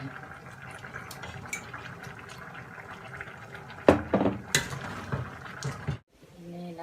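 Fish sauce poured into a simmering Thai curry of young moringa with canned fish, a soft bubbling simmer followed by a closer splashing pour and clatter before the sound cuts off, with faint background behind it.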